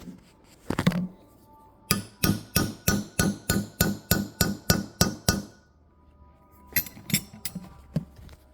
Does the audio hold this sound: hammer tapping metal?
yes